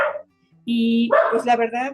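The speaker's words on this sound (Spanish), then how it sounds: "perdón por los ladridos de mi perrita." A small female dog barks and yips close by, a run of high, tonal barks mixed in with someone speaking Spanish.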